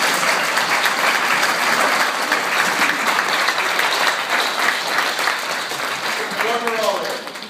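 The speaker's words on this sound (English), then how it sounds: "Let's give them a big round of applause" Sustained applause from a large crowd at a neighborhood council candidate forum fills the room, loud and steady throughout, with a brief voice rising near the end.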